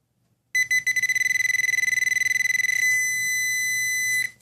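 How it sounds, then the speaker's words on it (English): A Garrett Pro-Pointer metal detector sounds a loud, close electronic tone, starting as a rapid pulsing beep that speeds up and merges into one steady continuous tone before cutting off. "you don't even need to take them off to hear the beeping, because this thing will vibrate faster and faster and faster."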